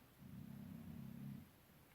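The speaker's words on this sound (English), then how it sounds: "That puppy snores." A puppy snoring softly nearby, one long low rumbling breath lasting over a second, faint and alone in a quiet room.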